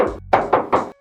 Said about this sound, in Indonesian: Kap mesinnya kita sekarang coba tes ketok